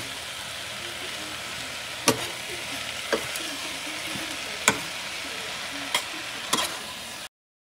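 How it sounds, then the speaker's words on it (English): Cabbage is stir-fried in a pan with a constant hiss of sizzling, broken by about five sharp clacks of a utensil against the pan at irregular intervals, before the sound cuts off abruptly. "It's not steamed cabbage. It's stir fried."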